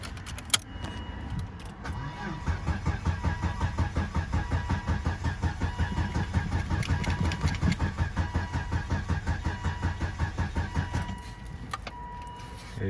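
A 2001 Volvo S80 engine cranking steadily without catching, a rhythmic starter whir lasting about nine seconds before stopping, with a key click at the start.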